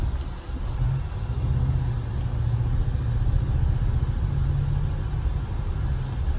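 A 4th-generation Toyota Tacoma TRD Pro pickup is driving, giving a steady low engine rumble and road noise heard from inside the cab, with no talking.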